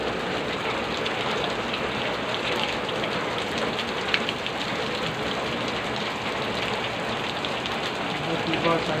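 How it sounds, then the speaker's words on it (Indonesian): Rain falls steadily on surfaces outdoors, a dense continuous patter and hiss that stays even throughout, close and fairly loud, with no talk. "Tiba-tiba saja hujan."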